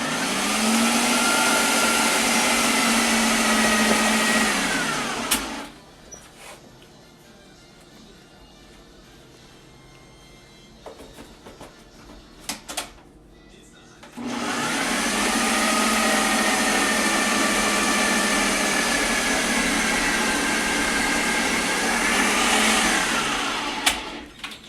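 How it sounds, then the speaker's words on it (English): Electric mixer whirring through keto chocolate cake batter with sweetener added, a loud steady motor drone that runs for about five seconds, stops for a quiet stretch with small clatters, then starts again and runs for about ten seconds. "Here's where a mixer with a open top would come in really handy."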